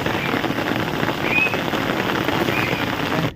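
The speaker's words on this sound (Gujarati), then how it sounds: "વરસાદ હળવે હળવે વધતો જાય છે" Rain falls steadily on surfaces in a village near Botad, a dense, close, even hiss of drops with no voices.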